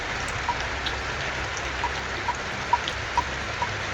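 Heavy rain pouring down steadily in a dense, even hiss, with occasional louder drops striking a nearby surface.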